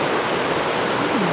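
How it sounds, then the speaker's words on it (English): Water rushes steadily and loudly where two rivers meet near Ingleton in the Yorkshire Dales, a dense unbroken hiss close to the microphone with no voices. "we found where the two rivers meet"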